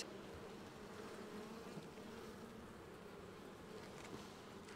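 Dense, steady buzzing of many honeybees in an open hive close by, a continuous low drone filling the whole clip with no speech.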